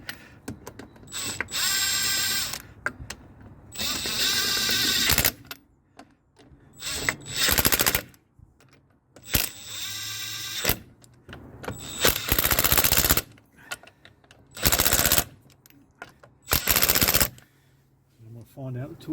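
A pneumatic impact wrench on its lowest setting spins drive shaft nuts onto a Nissan Micra, firing in repeated loud rattling bursts of one to two seconds separated by quiet pauses.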